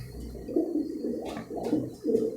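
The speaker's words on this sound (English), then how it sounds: "These two young pigeons over here are the latest round that were raised under surrogacy" Soft, low pigeon cooing in several repeated throaty phrases, fairly close, over a light background hiss.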